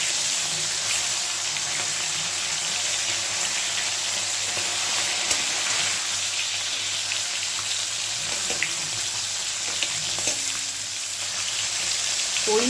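Koi fish frying in oil in a pan: a steady, close, broadband sizzle that holds evenly throughout, with a few faint clicks and no voices.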